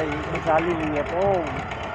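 A tractor engine runs steadily while it moves soil at a work site, with a low continuous drone under close, loud talking throughout.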